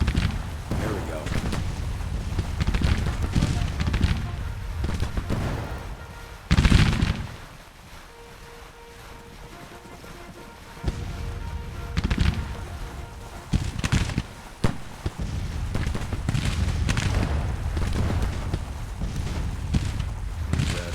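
Massed musket volleys from Civil War infantry regiments in the Ultimate General: Civil War strategy game, crackling bursts of gunfire and distant artillery booms spread across the scene with a lull midway and talk over parts of it.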